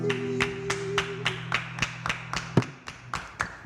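A single person claps about a dozen times at an even, steady pace, each clap sharp and close. A low hum sits underneath at the start, and there is no other sound.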